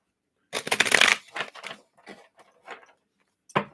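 A Craft Cards tarot deck is shuffled up close, a dense riffling burst followed by a few softer, scattered card flicks, then a final short snap.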